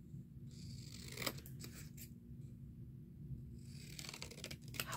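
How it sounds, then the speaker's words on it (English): Scissors snip through paper to cut out rose ephemera for a junk journal, short crisp cutting strokes arriving in a few close bursts over a steady low hum. "I'm just going to cut a couple of these out."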